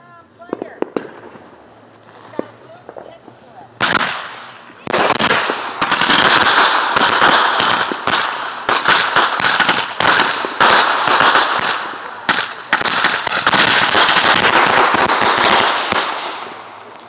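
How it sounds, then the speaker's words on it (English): Roman candle fireworks set off at a Fourth of July gathering, a rapid series of loud, crackling bursts and pops that keep firing for about twelve seconds, with people talking softly before the display begins. "I just lit my Roman candles"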